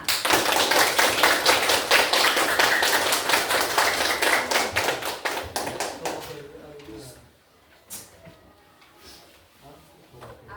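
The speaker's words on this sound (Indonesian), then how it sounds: "Tepuk tangan semua." An audience claps hands loudly in fast rhythmic bursts for several seconds, then the clapping fades and stops, leaving a quieter room with scattered small sounds.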